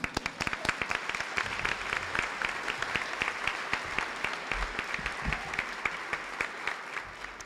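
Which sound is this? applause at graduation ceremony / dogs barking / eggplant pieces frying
applause at graduation ceremony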